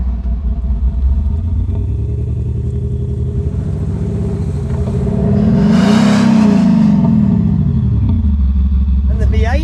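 Land Rover Defenders with a diesel inline six and a V8 idle nearby as a deep, steady engine rumble that swells into a rising and falling rev around the middle, with someone talking over it throughout.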